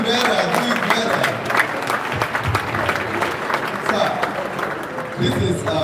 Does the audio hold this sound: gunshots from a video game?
no